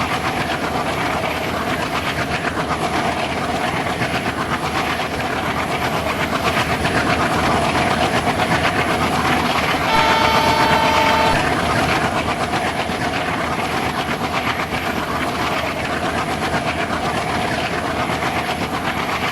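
A diesel train in an Indian Railways simulator game rolls toward a loop line in a steady, loud rumble with faint rhythmic clatter, and a brief tonal horn-like note sounds midway, with no voices.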